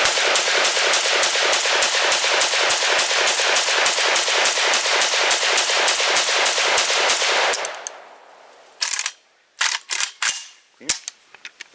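An ATI Galil rifle fed from a Tapco magazine fires a long, fast, steady string of loud shots for about eight seconds. A few scattered clanks and clicks follow after the firing stops.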